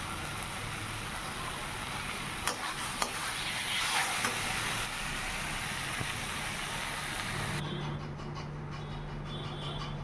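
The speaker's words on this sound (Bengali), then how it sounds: "কচু শাকের যত রস ছিল আস্তে আস্তে মাঝে এরকম করে টানিয়ে শুকনো" Taro leaf curry with coconut sizzles and is stirred in a pan as it cooks down dry, a steady close frying hiss with soft scraping strokes that eases off near the end.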